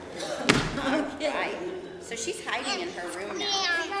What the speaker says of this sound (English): she went to her bedroom and slammed the door.